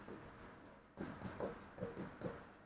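Scratchy, rhythmic strokes of writing on a board during a class 12 chemistry lecture, coming in short repeated bursts, fairly close, with no talking over them.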